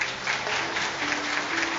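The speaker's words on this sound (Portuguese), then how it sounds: "Eu posso ouvir o aplauso da igreja." A church congregation applauds steadily at close range, a dense continuous wash of clapping lasting the whole moment with a faint sustained tone underneath.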